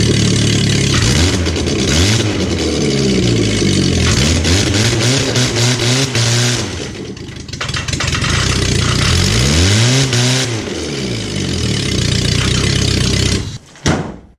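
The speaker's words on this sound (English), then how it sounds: "start the motor up, and let her rip" Car engine, freshly topped up after an oil change, is started and revved repeatedly, with several loud rising and falling revs between idle stretches, ending in a sharp thump.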